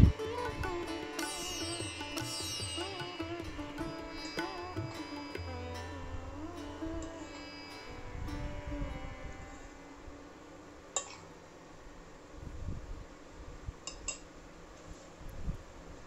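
Dry besan is stirred with raisins and cardamom powder in a metal pan or bowl, giving soft scraping and occasional light clinks of a spoon, close and quiet, with no talking.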